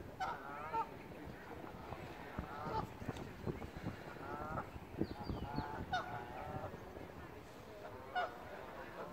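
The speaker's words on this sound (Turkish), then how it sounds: "Ördekler, kazlar bağırıyor." Geese and ducks honk and call at a lake beside a children's playground, a steady overlapping chorus of loud nasal honks and quacks with rapid bursts throughout, some calls close and others farther off.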